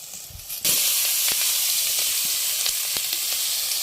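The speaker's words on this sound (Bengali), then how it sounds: "এখন মা পুটল ভেজে নিতেছে" Pointed gourd (potol) slices hit hot oil in a village kitchen, a sudden loud sizzle bursting in after a quiet moment, then a steady close hiss with a few faint crackles and taps.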